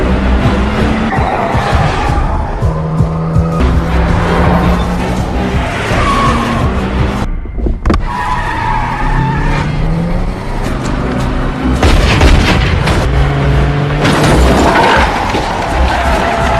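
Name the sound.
stolen car speeding away with tires skidding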